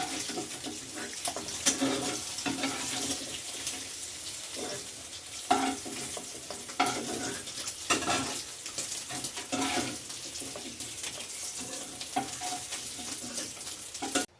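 Paneer cubes fry in a pan until reddish-brown, giving a continuous hissing sizzle with occasional louder spits and scrapes of stirring, close and steady throughout with no voices.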